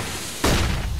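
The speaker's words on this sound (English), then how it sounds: "flashbang" A flashbang grenade goes off in Counter-Strike: Global Offensive as a sudden loud burst that cuts into steady game ambience and rings on for a moment.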